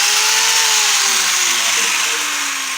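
A handheld angle grinder roars loudly and close up in a harsh, continuous whine, its pitch sagging slightly as it runs.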